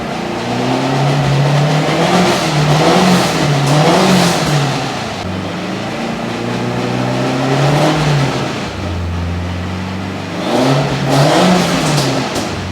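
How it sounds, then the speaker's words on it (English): An all-wheel-drive Honda Civic Type R revs repeatedly past 4,000 RPM, its engine note climbing and falling in loud waves over a noisy drivetrain whine, close and sustained without talking. "This drivetrain is so loud on this car."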